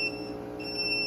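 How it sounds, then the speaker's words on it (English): A home solar battery bank with Growatt and EG4 inverters sounds a low-charge alarm: a steady high electronic beep tone holds over a constant hum, loud and close, with no talking. "that's the reason we get an alarm,"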